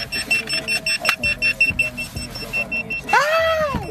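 An electronic bite alarm beeper goes off in a rapid string of repeated, evenly spaced beeps, loud and close, followed by a brief warbling tone as a voice talks underneath.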